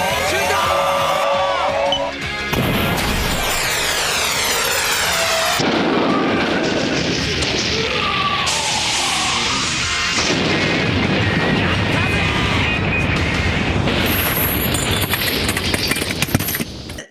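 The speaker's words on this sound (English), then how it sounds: "The monster exploded, said Megiddo." A dense, loud explosion effect for a monster blowing up, with crackling bursts and layered booms that fill the whole stretch without a pause, mixed with other effects.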